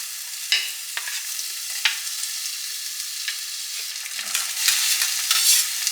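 Chopped ingredients fry in a pan, a steady close sizzle with a few sharp ticks and scrapes as they land and are moved. The hiss swells louder toward the end.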